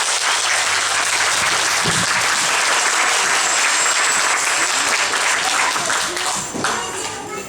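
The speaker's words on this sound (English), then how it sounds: "let's give Krill another nice round of applause." Crowd at a live killer whale animal show giving a long, loud round of applause, dense continuous clapping from a large audience in the open, easing off near the end as a voice speaks briefly.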